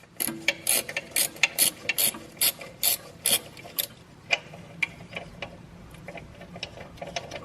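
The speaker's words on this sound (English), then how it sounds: "get like a little swivel wrench. You could get a smaller version, and then you'll have enough access to loosen it out" A small swivel-head ratchet wrench loosens a rusted engine mount on a BMW E46 xi, giving close, crisp ratcheting clicks in quick bursts with short pauses between strokes, the clicking fading toward the end.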